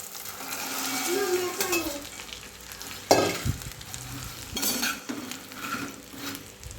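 Potato sheera being sautéed with a spoonful of salt in a pan, a moderate sizzle with repeated stirring and one loud clank of the utensil against the pan partway through.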